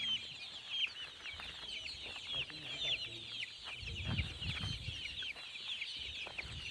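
Desi hens cluck and murmur in a crowded flock on a Pakistani poultry farm, a busy, faint chorus of overlapping calls with occasional footsteps and rustling nearby.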